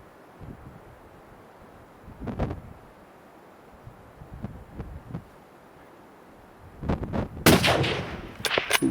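Gunfire during a goat hunt, with several sharp reports in the open air: isolated cracks early on, then a louder, denser burst of shots near the end, all against faint wind.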